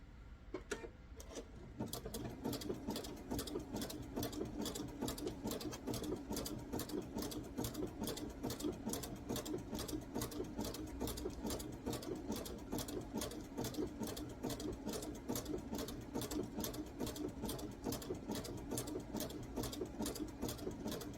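A sewing machine stitches coiled rope into a bowl with a fast, steady, rhythmic needle chatter that runs for about twenty seconds, fairly quiet and with no talk.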